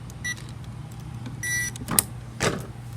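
A toy-grade RC truck switching on, giving short electric motor whirs and servo buzzes in quick bursts, close and fairly quiet against a low steady hum.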